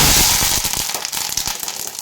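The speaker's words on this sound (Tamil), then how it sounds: "கடுகு வெடிக்கவும் கருவேப்பிலை போட்டுக்கலாம்" Dense, rapid crackling and popping of mustard seeds spattering in hot oil, loud and continuous for the whole stretch.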